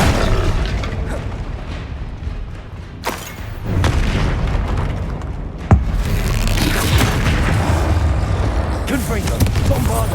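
Spell explosions in the video game Hogwarts Legacy, cast with Confringo and Bombarda: sharp booming blasts, including two distinct hits partway through, over a steady rumble of combat noise, with a voice speaking at times.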